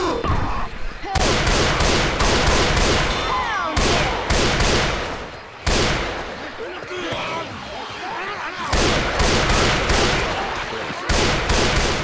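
Gunfire in the game Left 4 Dead 2, sustained bursts of rapid shots in long loud stretches broken by short gaps, with shouting voices over the din.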